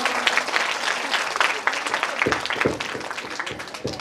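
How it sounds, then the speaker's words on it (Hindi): An audience at a Shrimad Bhagwat Katha religious discourse gathering in Korba claps together in sustained, even applause for about four seconds, a dense patter of many hands close by. "बहुत ही तालियों से स्वागत कीजिएगा"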